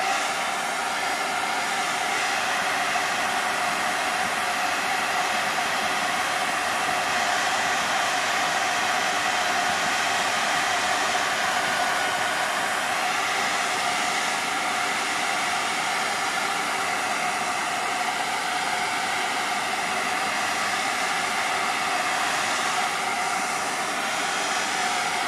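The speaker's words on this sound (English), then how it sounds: "I'm just going to dry that a minute." A hair dryer blows a constant, loud, steady whoosh at close range, drying wet paint on a painting, with no pauses or talking over the whole stretch.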